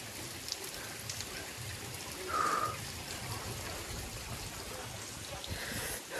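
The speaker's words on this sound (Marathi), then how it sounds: "संकेतबाई झऱ्याचं पाणी पित आहेत." Soft trickle of mountain spring water along the trek to Sudhagad fort, a faint continuous patter with a brief brighter splash midway, quiet and close.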